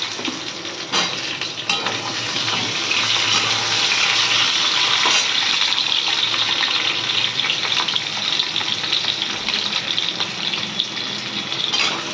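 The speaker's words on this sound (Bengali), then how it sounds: "কড়াইতে তেল গরম করেছি, আমি এখন আলুগুলি ভেজে নেব।" Turmeric-coated potatoes, soaked in salt water, frying in hot oil in a wok, with a loud, steady close sizzle and occasional stirring clinks of a utensil, no talking.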